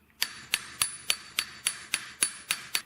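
Hammer flattening 925 silver ring bands, nine crisp metallic strikes at a steady, even rhythm, each ringing briefly before the next, close and alone.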